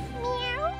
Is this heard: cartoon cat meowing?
yes